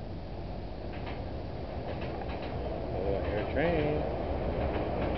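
A train rumbles at South Norwalk train station, a steady loud low roar with faint clanking and a brief squeal near the end, heard from the platform.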